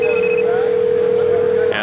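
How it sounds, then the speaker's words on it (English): An AMPS cell phone on a demonstration telephone network rings with a steady electronic tone held for nearly two seconds, close and loud, with a faint murmur of background noise. "and the cell phone rings."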